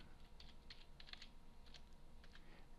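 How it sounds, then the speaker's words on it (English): Keys tapped on a computer keyboard while entering a username, a quiet run of light irregular clicks in small bursts over a faint steady background hum, with no voices. "I'm just going to type in my username"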